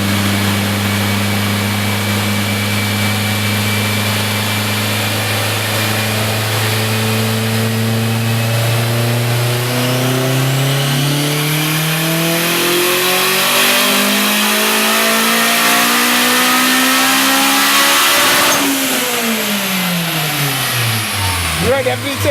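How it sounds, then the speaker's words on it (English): A turbocharged car with a VTEC engine revs hard on a dyno, its pitch climbing steadily through a long, loud pull before dropping sharply near the end, with voices talking over it. "I heard that VTEC."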